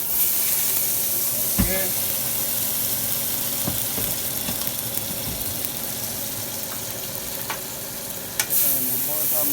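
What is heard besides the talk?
butter melting and sizzling in a hot pan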